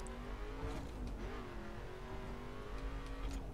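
Car engine revving and accelerating in the racing video game The Crew, a steady loud motor drone with rising and falling pitch throughout, sounding near.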